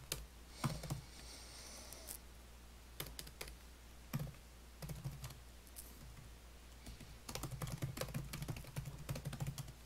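Someone writing a blog post types on a computer keyboard in quiet, irregular bursts of soft key clicks, becoming a denser patter near the end, with no speech.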